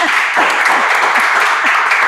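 Steady applause from a studio audience for Pak Rizka on an Indonesian talk show, dense and continuous throughout with a few light vocal whoops rising above the clapping.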